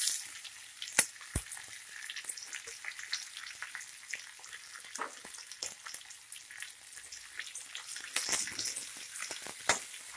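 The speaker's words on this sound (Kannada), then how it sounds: "ಒಂದು 2 ನಿಮಿಷ ಫ್ರೈ ಮಾಡ್ಕೊಳ್ಳಿ ಈರುಳ್ಳಿನ" Chopped onion and curry leaves sizzle steadily in a hot oil pan, with scattered pops and crackles, after mustard and cumin seeds have spluttered. Stirring adds a few soft scrapes, and the cooking sounds stand alone, close and moderately loud.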